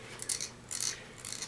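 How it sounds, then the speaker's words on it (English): Three short rasping scrapes of a fingernail dragged across a ridged 3D-printed plastic surface, close and quiet, with brief pauses between strokes. "My nail's going across little valleys and peaks."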